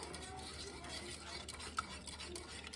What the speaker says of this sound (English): I'm just going to keep stirring until it thickens up